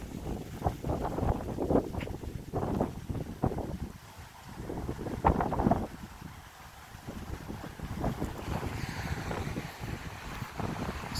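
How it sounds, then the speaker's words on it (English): Strong wind gusts buffet the microphone during an evening walk along Côte-Saint-Luc Road, a loud, uneven rumbling roar that swells and eases throughout with no talking. "A strong wind."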